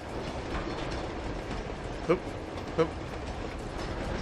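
A train rolls steadily through the video game Uncharted 2, a low continuous rumble and clatter with two short metallic clanks, fairly faint and mixed with game background noise.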